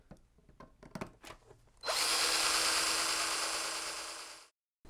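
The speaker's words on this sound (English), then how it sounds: "I'm going to see if I can drill them out." A power drill drilling out screws whirs loudly and steadily for a few seconds, then cuts off abruptly, preceded by some light clicks and handling knocks.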